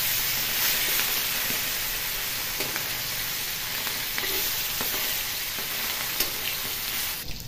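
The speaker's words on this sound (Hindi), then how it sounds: "तो मछली मेरा दोनों साइड फ्राई हो गया है, देखिए अच्छे से फ्राई हो गया है" Fish frying in oil in a pan for a fish curry gives a loud, steady, close sizzle and hiss that runs unbroken from start to finish, with no talk.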